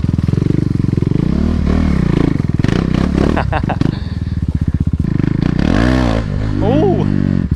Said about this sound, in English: Oh, we're spinning tire.